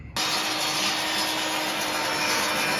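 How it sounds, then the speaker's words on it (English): Table saw ripping a 2x12 wood board to trim its rough edge, a steady loud whining grind that starts abruptly and holds throughout. "run it through table saw, cut off the rough edges, make them all equal widths"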